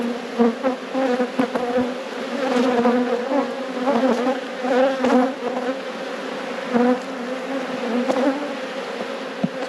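Honey bees swarm around an opened beehive, a close, dense buzzing with shifting wingbeat tones and frequent louder passes as individual bees fly near.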